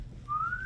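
A single rising whistle blown by a person reading a Christmas story aloud to children, imitating a call to a reindeer team; brief, clear and fairly close, over a low background hum.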